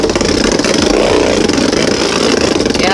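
A Beyblade spinning top in attack mode, spinning right, scrapes hard against its arena, a loud, continuous grinding rattle close by for the whole stretch.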